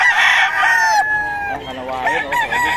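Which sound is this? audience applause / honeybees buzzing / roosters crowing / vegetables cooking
roosters crowing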